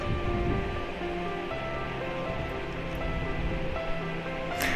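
Okra with salt, turmeric and a few pieces of green chilli frying dry in a pan, giving a steady, close hiss and sizzle that runs unbroken throughout with faint clinks.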